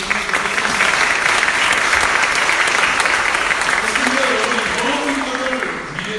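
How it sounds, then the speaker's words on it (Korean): A church congregation gives a loud, steady round of applause for the senior pastor and his wife during an anniversary thanksgiving service, dense clapping sustained throughout with faint voices underneath. "우리 두 분에게 한번 감사 박수 드렸으면 좋겠습니다."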